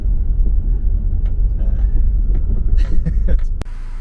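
A car rolls along Route 66 in Illinois near Dead Man's Curve, a loud, steady low rumble of engine and road noise with some faint clicks and a sharp tick near the end.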